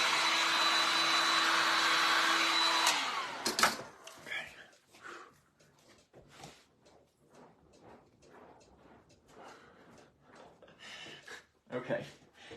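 A handheld dryer blows loudly and steadily over wet paint on a small wooden fairy door for about three seconds, then shuts off, leaving quiet talking and light handling noises.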